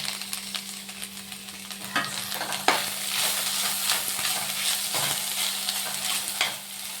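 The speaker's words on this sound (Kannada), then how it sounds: "ಹೆಚ್ಚಿರೋ ಒಂದು ಟೊಮೊಟೊನ ಹಾಕೋಣ." Ginger-garlic paste and chopped tomato fry in a pan with a steady sizzle, broken by occasional scrapes and clinks of a spoon stirring; no talking.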